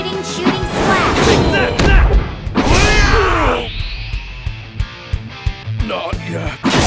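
A shooting slash attack from the video game Fairy Fencer F, heard as loud whooshing impacts and thuds with a rising swoosh, followed by quieter rhythmic hits, mixed with game voices and effects.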